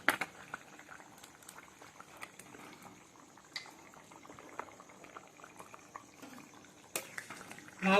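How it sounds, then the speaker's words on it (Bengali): Bottle gourd simmering in a covered pot, a steady soft bubbling and burbling with a few sharper clinks, close and alone without voices. "এবার লাউটা সিদ্ধ করার জন্য একটু ঢাকা দিয়ে দিলাম 5 মিনিট"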